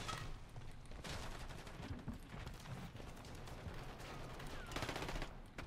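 Sustained, dense gunfire rattles without break through a Call of Duty MW3 multiplayer match, a loud, continuous clatter of rapid shots with a slightly heavier burst near the end.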